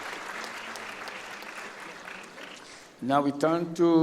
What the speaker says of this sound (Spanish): Démosle un gran aplauso al profesor Latifi.